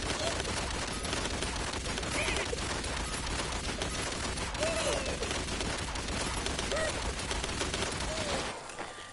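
A light machine gun fires in the video game Realm Royale: dense, continuous rapid gunfire fills the whole stretch and then cuts off near the end.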